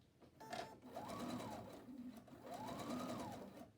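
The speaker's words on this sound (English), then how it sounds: "And then I'm going to stitch the other side of the pocket." Sewing machine stitching the pocket of a Pendleton '49er-style wool shirt, running in two steady bursts of rapid, even needle strokes with a short pause between, close and clear, no talk.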